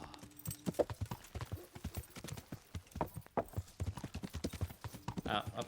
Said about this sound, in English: Horse? Horse.